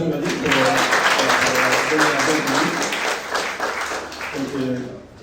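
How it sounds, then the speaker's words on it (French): A church congregation applauds a first-time visitor during a Sunday service, a dense, sustained wash of clapping from many hands that fills the room, with voices talking over it and easing slightly toward the end. "On peut l'applaudir"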